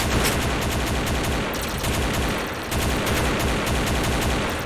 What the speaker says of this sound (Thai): เอฟเฟกต์ปืนก็เยอะสุดเหลือเกินสวยงามเหลือเกิน